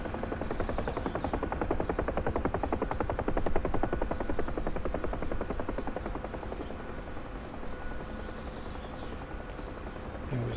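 A Huey helicopter in the flight simulator DCS hovers near the ground, its rotor producing a loud, steady rapid blade chop over a droning engine that eases slightly toward the end, with no talking.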